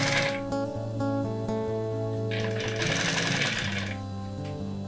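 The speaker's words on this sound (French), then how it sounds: "je prends une pièce de cuir et puis je fais tout simplement la coudre pour" A machine sews a leather piece into a bag handle, giving a loud rapid mechanical stitching drone with shifting pitch and a brief louder rattling burst midway.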